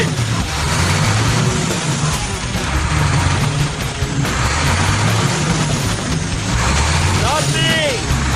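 A bus engine running on HHO idles and revs with a steady, loud rumble close by, a brief hiss and a squeak near the end, while people talk over it.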